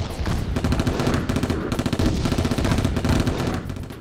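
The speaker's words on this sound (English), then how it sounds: "the sound of machine gun fire or aircraft flying overhead" Sound effect of machine gun fire in a World War I museum diorama exhibit, with continuous, dense rapid-fire bursts rattling loud and close without a break, and no talking.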